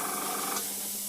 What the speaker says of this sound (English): you can hear a little let by, which is actually where it's leaking out the bottom.